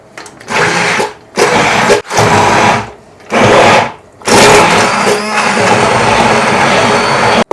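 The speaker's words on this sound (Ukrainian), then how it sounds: "Тепер всю цю масу я переб'ю блендером." A blender runs in loud, close bursts as it purées a mushroom cream soup with bay leaf, pulsing on and off several times before one longer sustained run.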